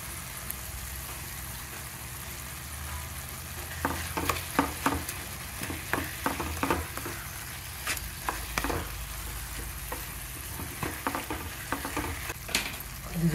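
Tomato curry with turmeric and salt cooks in a pan, giving a steady sizzling hiss broken by scattered sharp stirring scrapes and taps from a utensil, fairly close, with no talking.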